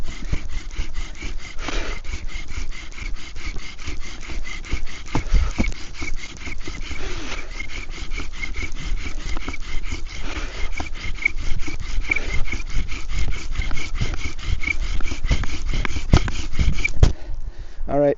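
A bow drill with a cattail bowstring spins a wooden spindle held in an ice socket on a fireboard, giving a fast, even rasping rub that saws back and forth at a steady rhythm, close and continuous, with a brief stop at the end.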